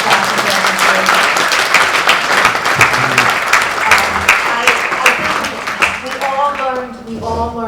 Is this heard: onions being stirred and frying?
no